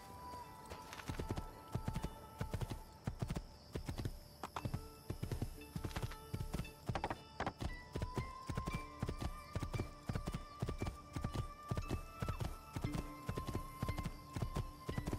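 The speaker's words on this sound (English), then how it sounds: "Get on the horse." A horse's hooves clip-clop in the video game Assassin's Creed II, a steady, even trotting rhythm that runs throughout, fairly quiet with a faint hum of game ambience beneath.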